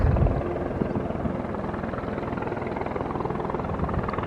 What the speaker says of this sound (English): And then there's a helicopter.